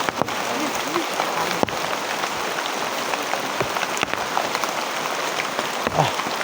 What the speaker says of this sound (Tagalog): Grabe, sobrang lakas ng ulan tol.